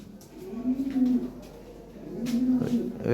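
Big Lahore siraji pigeons coo in low, rolling phrases, two soft bursts of throaty cooing at close range with faint background voices and rustling between calls.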